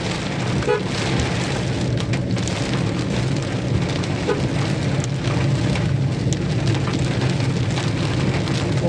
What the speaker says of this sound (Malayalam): ശക്തമായ മഴ പെയ്യുന്നത്